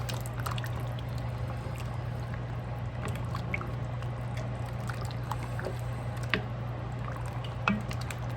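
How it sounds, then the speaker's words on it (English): Sauce coming to a boil in a pot on a stove, heard as soft bubbling and wet plops with occasional stirring clicks of a utensil, fairly close under a steady low hum. "we're coming up to a boil here, so I'm going to give this a good stir"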